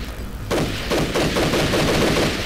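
Rapid automatic gunfire in the video game Army Men: Sarge's War, a sudden burst of repeated shots breaking in after a quieter start and continuing as a dense, loud rattle.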